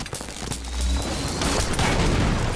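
Weapon fire in a Halo 5 ranked Big Team Battle match, a sustained burst of loud blasts and booming impacts crowding together with dense game noise over a couple of seconds.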